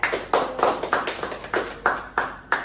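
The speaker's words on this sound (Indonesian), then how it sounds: "Beri tepuk tangan dulu buat Kakak Devi ya." A small group claps along in irregular bursts during an Indonesian talk-show segment, each clap sharp and close, separated by short pauses.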